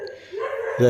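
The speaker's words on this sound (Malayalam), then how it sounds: "ഇപ്പോൾ തന്നെ പട്ടികളുടെ ശബ്ദം ഈ റോട്ടിൽ കൂടെ കേൾക്കുകയാണ്" A dog on a road gives a short bark or yelp nearby, rising at the end of a brief moment of steady background noise.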